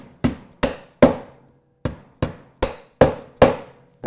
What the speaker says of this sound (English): then you come in and you drive those pins in